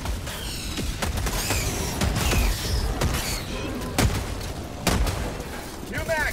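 Rapid gunfire from a Gatling sentry turret in the shooter game Helldivers 2, loud bursts and booms repeating across the scene, with voices talking over the shooting.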